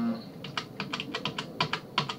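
Someone types on a computer keyboard while working in Microsoft Word 2007, making a quick run of close, moderately soft key clicks in an irregular rhythm, with the Enter key pressed among them.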